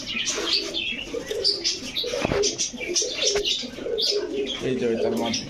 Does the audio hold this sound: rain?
no